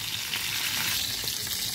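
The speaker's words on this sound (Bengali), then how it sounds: "ডিমটা ভাজছি।" Eggs fry lightly in a pan for egg rezala, giving a continuous close, bright sizzle of hot oil that holds steady throughout.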